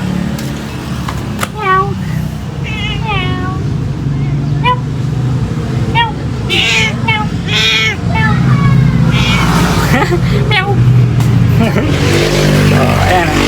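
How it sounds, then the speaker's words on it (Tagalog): A cat meows several times in short rising calls amid plants outdoors, while a person talks and engine-like background noise rumbles throughout. "Tapos dito naman, ating pusa."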